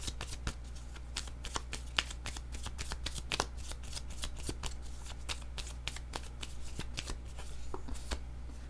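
Tarot cards are shuffled by hand, with fast crisp riffling snaps repeating steadily over a low background hum, close and quiet.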